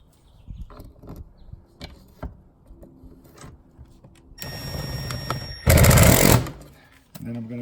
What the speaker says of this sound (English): And then I'm going to just hand tighten it with the ratchet.